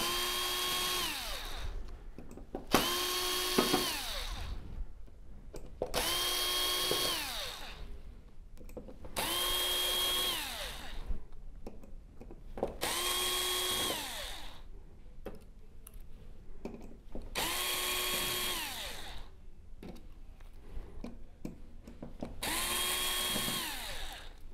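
A power driver whirs in repeated short bursts, about seven runs with pauses between, backing screws out of the main board of a Sony XBR-75X900F television, close and alone.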